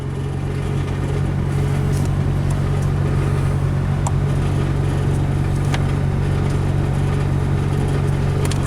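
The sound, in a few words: Nissan engine running with annoying rattle, rusted exhaust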